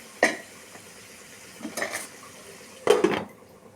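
Metal lid set down on a pot of Andhra-style tomato fish curry, several sharp clanks and clatters of cookware spaced over a few seconds, close and fairly loud against a quiet background.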